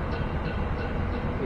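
A railtour train hauled by a Class B1 Mayflower rolls into Manningtree Station with a dense, steady rumble of wheels on rails, loud and close throughout.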